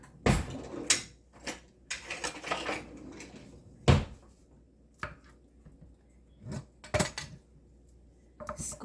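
Cooked sweet potato is pressed through a potato ricer, with scattered metallic clunks, clacks and scraping taps at irregular intervals, close and moderately loud, and no talk.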